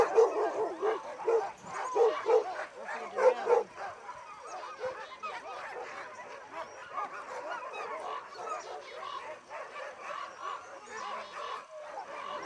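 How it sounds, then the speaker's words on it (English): Sled dogs in Alaska bark, yip and whimper together in a busy, overlapping chorus during late-summer training, loud and close throughout with no talking. "Both Jeff and Ramey start training their sled dogs well before the snow falls"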